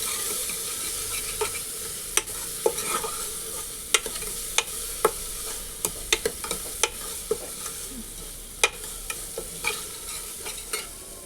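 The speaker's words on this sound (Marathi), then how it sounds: "भाजून घ्यायची तेलावरती या फोडणीसोबत." Skin-on urad dal roasts in hot oil with a spice tempering while a spatula stirs it, giving a steady low sizzle broken by sharp, irregular scraping clicks close by, with no voices.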